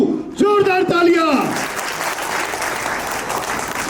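A voice calls out briefly, then applause from a crowd of students and guests fills the room at a school event during a visit by Bajrang Dal representatives, steady and close.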